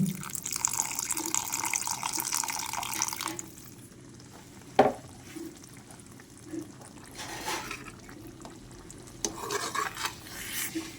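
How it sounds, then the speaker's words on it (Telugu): Tamarind water poured into a simmering raw banana curry, a watery splash and pour up front followed by stirring, a sharp clink and scattered drips and scrapes in a quiet kitchen. "చింతపండు వేసేస్తున్నాం."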